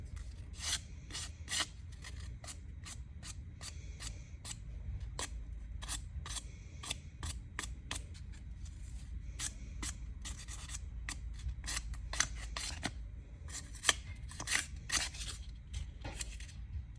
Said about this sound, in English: I just take my sandpaper, go around my edges